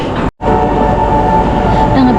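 A train pulls into a railway station in Switzerland, a loud, steady rumble with a sustained tonal hum that fills the whole stretch, broken only by a brief dropout near the start.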